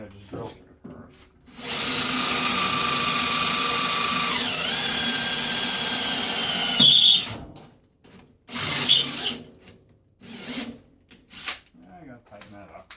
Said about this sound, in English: To avoid that, I'm going to just drill through first.